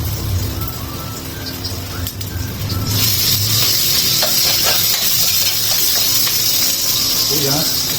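Onions sizzle and hiss steadily in a hot pan, loud and close, growing stronger partway through, with occasional stirring noises and a voice talking briefly.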